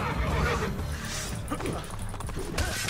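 A horse whinnies amid clip-clopping hooves and game scuffle in Assassin's Creed Brotherhood, a mid-loud in-game neigh mixed with other action sounds and a player's chatter.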